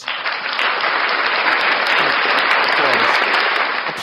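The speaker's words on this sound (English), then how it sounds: "Please applaud us." Steady, dense applause from an audience fills the space without pause, loud and continuous throughout with a faint murmur of voices beneath the clapping.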